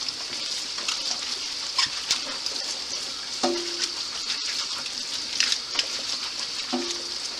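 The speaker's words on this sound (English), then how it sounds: "start washing these babies off with cool water" Cabbage leaves rinsed under a cool running kitchen tap, a steady hissing stream with occasional splashes and light knocks as the leaves are handled.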